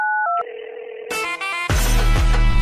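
Telephone dialing for a call: a few quick DTMF keypad beeps, then a steady tone, followed by louder, denser electronic phone sounds at the end, heard alone and close.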